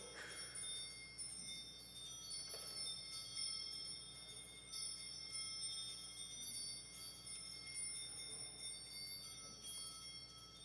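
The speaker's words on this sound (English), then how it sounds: "a Zimbalstern, which is like one of those Christmas candles, you know, candles with the angel and chiming going around" A Zimbalstern pipe-organ stop sounds in a church, a steady shimmer of small chiming bells rotating and tinkling continuously throughout, moderately loud and without any talking.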